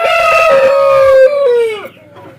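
A rooster held in the hand crows once at close range, a loud, strained cock-a-doodle-doo that rises, holds and then breaks off, followed by a brief low rustle.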